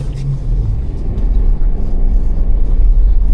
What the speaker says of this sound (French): Je vais juste faire un petit dérapage contrôlé, voir ce que ça va donner ici